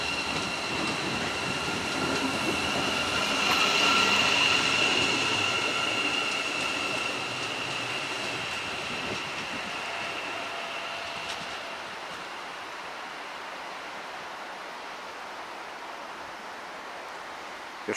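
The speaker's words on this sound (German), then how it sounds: "haben wir eine Ausfahrt vom Averio." An Arverio train departs Augsburg main station. It rolls past close by with a steady rumble and clatter, and a high wheel squeal fades as the train pulls away. No one speaks.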